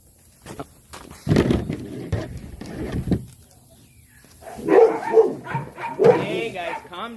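Neighborhood dogs bark on a suburban Saturday morning during an outdoor plant harvest, several bursts of loud, close barks and whines in clusters, with pauses between and a voice talking in between.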